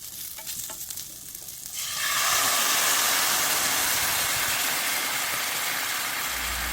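Korean rice cakes frying in a little oil in a pan, a quieter crackle that suddenly swells after about two seconds into a loud, steady, hissing sizzle that holds to the end, close by, no talking.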